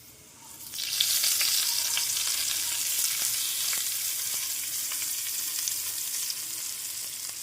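A hot tadka of Kashmiri red chilli pours into carrot kadhi and hits with a sudden loud sizzle, then settles into steady, close crackling frying that goes on for several seconds. Nobody speaks.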